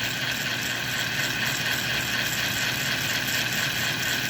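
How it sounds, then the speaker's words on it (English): The motor of an American Flyer Atlantic model train running on a bench test, giving a steady, even hum with constant loudness and a broad hiss across the range, close and with no talking. "Getting a little hum out of that motor."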